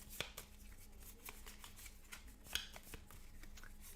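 Playing cards shuffled during a solo tabletop session of A Touch of Evil, a run of soft riffling and sharp card snaps heard close and fairly quiet, with no talk over it.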